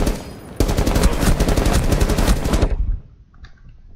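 Rapid automatic gunfire in Rainbow Six, a dense sustained burst of close, loud shots fired at a bomb that runs for about two seconds and then cuts off, leaving faint game ambience.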